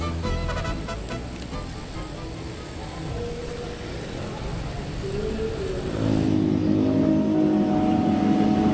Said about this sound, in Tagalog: ang dami rin namin kasabay na motor na nag-long ride din siguro